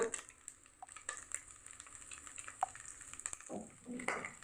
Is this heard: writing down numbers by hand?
no